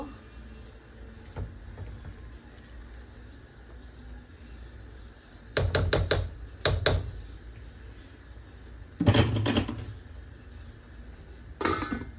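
A lid is set down over a cooking pot of ghatkol, giving a few short clattering knocks spaced across the stretch, with a quiet background and no voices.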